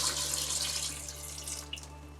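Tap water runs steadily into a cooking pot in a home kitchen, a continuous hissing splash at close range with a slight flicker near the end, no talking over it.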